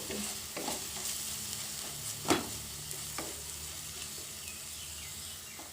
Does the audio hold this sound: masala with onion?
yes